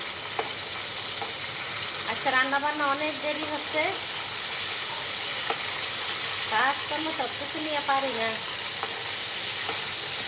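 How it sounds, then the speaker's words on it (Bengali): Shing fish fries in oil with a steady sizzle and hiss beneath someone talking, in a home kitchen where eggplant and cabbage are also being cooked. "মাছটা একটু ভাজা হোক"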